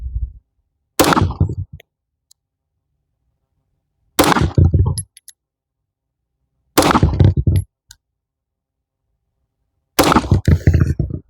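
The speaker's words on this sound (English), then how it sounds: "we're going to go back and shoot 3 to 5 rounds at the target at 25 yards" Four loud pistol shots fired outdoors at a target 25 yards away, each sharp crack separated by a few seconds of silence.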